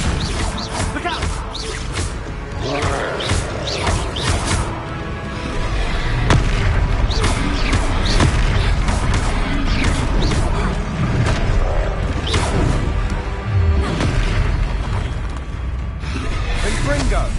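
Confringo blasting spell explosions from a Harry Potter game, booming blasts over dense game sounds and music, with voices calling out spells.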